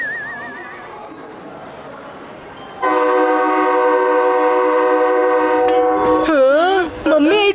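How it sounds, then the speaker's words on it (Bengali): A cartoon train sounds a long, steady, loud multi-tone horn as it starts to move, followed by warbling whistle-like tones and short bursts of sound. "মাম্মি, এই ট্রেনটা তো চলতে শুরু করলো।"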